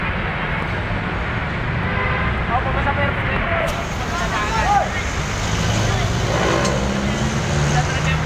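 Wind buffets the microphone with a low, steady rumble while a person talks over it nearby.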